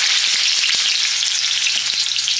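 Plantain slices for patacones fry in hot canola oil on a high burner, a dense, steady sizzle with a few soft pops and clicks near at hand, no voices.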